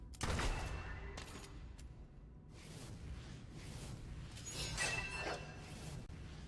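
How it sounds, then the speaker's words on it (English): Assault rifle fire in the video game Fable 2, heard as several rapid bursts of shots spread across the stretch, fairly faint and with no talking over it. "Oh, it's just the assault rifle."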